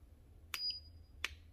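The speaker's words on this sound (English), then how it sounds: "turn the machine on, you will hear a beep sound and the light is on" A kitchen gadget beeps as it is switched on: a faint, brief electronic tone with a sharp click at its start and another click moments later, in a quiet room.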